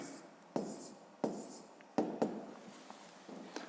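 A pen or pencil scratching out numbers by hand during a fifth-grade maths exercise, in several short bursts of writing strokes separated by brief pauses, close and fairly quiet.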